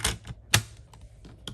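A paper trimmer cuts through a stack of cardstock in a few sharp, close chops and clacks spaced across a short moment, with no talking.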